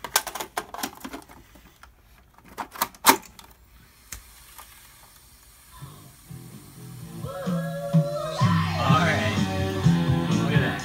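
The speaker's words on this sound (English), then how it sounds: "Now let's go ahead and insert this tape." A tape cartridge clatters and clicks into a 43-year-old vintage 8-track player, with scattered mechanical knocks at first, then the machine engaging as playback sound builds toward the end.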